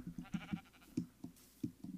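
Sheep in the video game Minecraft give short, quiet, repeated bleats and grunts in an uneven rhythm, with several brief calls in a row and small gaps between them.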